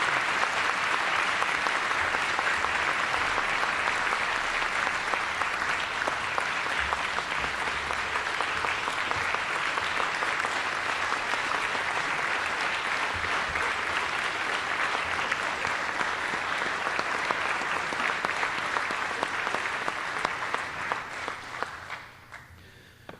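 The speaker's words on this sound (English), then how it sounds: "How about another round of applause for all of our award winners this afternoon?" A large audience gives sustained, loud applause for award winners at an afternoon awards ceremony, a thick continuous roar of clapping that holds steady for about twenty seconds before tapering off.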